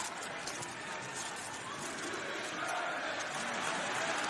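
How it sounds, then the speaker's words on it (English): Wrestling arena crowd at AEW Revolution 2022 during CM Punk versus MJF, a loud, dense, sustained roar of many voices chanting together, filling the whole stretch without a break. "Your fans chanting, you deserve it"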